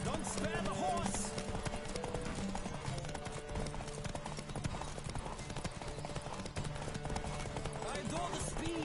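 Rapid clip-clop of a horse galloping in The Witcher 3: Wild Hunt runs steadily throughout, with a busy rumbling background and voices talking over it.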